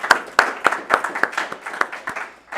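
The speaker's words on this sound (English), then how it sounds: "let's start by giving you all an applause for showing up" A small audience claps at a university humanities speaker series event, giving a short run of sparse, distinct hand claps that thin out and fade over a couple of seconds.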